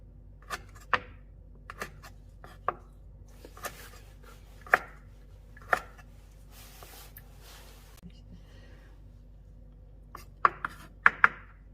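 Knife cutting through fresh abalone during cleaning, with sharp, separate clicks and taps scattered across the clip and a quick cluster near the end, close up and fairly quiet under a low room hum.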